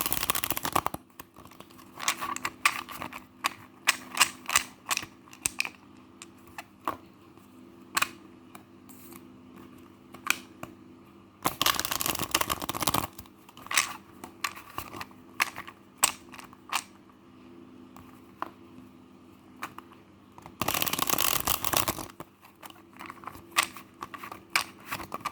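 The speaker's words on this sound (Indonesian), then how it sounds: "Kocok kartu dulu untuk keuangan kamu." Tarot cards being shuffled by hand for a financial reading, heard as rapid papery riffles and soft clicks with two longer bursts of card noise, close and quiet with no talking.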